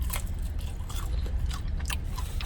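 Crunchy bites and chewing on crispy fried chicken skin, a run of sharp crackling bursts over a low rumbling background, close up with no talking.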